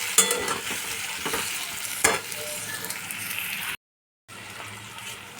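Spices with turmeric and salt sautéing in a pan for a soya chunk and chhana dish: constant close sizzle with sharp spatula scrapes and knocks, broken by a brief silent gap near the end.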